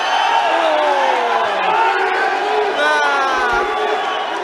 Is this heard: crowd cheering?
yes